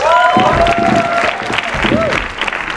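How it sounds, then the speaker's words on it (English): A crowd claps continuously and loudly, with a voice speaking over the applause. "can we have a round of applause to that?"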